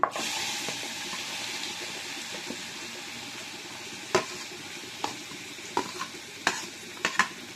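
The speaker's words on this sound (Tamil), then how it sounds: "அதுக்கு நான் எண்ணெயில் கரம் மசாலா சேர்த்துருக்கேன்" Garam masala sizzling in hot oil in a pan, a steady close frying hiss broken by sharp spatters and stirring clinks in the later seconds.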